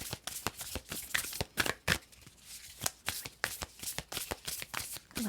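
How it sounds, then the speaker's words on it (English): Tarot cards are riffled and shuffled in rapid, crisp bursts, close up and fairly loud, with brief pauses between flurries. "Last shuffle."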